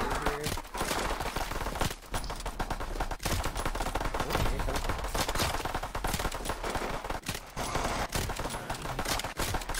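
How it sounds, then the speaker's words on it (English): Sustained gunfire in a Call of Duty zombies match on the Bodega map: dense, rapid shots fired through a wall, loud and continuous for about ten seconds, with no pauses and no voices. "I'm just shooting through this wall because we're gonna use an instant here"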